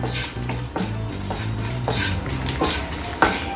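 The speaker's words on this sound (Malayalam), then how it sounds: "2 ടീസ്പൂൺ മല്ലിപ്പൊടി, ഒരു 1/4 ടീസ്പൂൺ മഞ്ഞൾപ്പൊടി, അതും ഞാൻ ഇതിൻ്റെ കൂട്ടത്തിൽ ഒന്ന് ഡ്രൈ റോസ്റ്റ് ചെയ്തെടുക്കുവാണ് കേട്ടോ" Coriander powder and turmeric being dry roasted in a pan, with a spoon scraping and stirring in repeated close strokes and light clinks against the metal, a faint sizzle underneath, and no talking.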